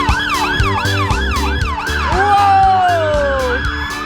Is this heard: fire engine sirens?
yes